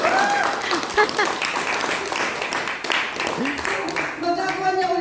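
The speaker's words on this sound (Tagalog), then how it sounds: "Palakpakan po natin ang Panginoon" A church congregation applauds during a healing and deliverance service, a broad sustained burst of many hands clapping with a voice speaking or calling out over it.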